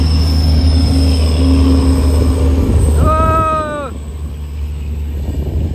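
A loud, steady rumble of a train passing close by near Badlapur, with a brief high metallic squeal of wheels partway through.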